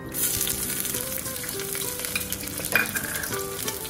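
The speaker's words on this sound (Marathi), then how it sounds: "खडे मसाले पूर्ण टाकत आहे, नंतर कांदे टाकत आहे" Whole spices and onions hitting hot oil for Nagpur-style masala rice, a bright close sizzle that flares at the start and keeps crackling, with a spoon scraping and stirring through the pan.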